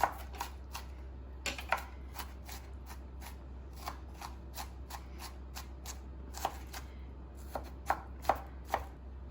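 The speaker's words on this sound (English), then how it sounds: "Trying to mince these into a little bit smaller pieces." A knife minces food on a cutting board in quick, uneven bursts of sharp taps, close and crisp over a low steady hum.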